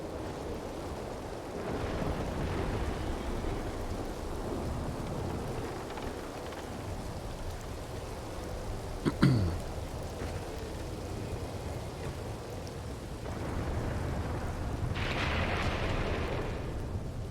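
Steady rain hisses throughout in a video game, with low rumbling thunder swelling and fading, and a single sharp crack partway through.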